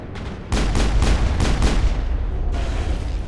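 A burst of heavy gunfire in Mass Effect, sniper and pistol shots: four or five loud, booming reports in quick succession, then a fainter trailing shot, with no talk over them.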